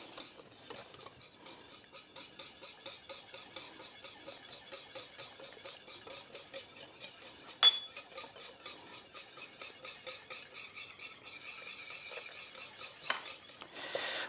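A spoon stirs olive oil and lemon juice into a warm condiment in a saucepan, giving quiet, rhythmic scraping and light metallic taps, with one sharper clink midway.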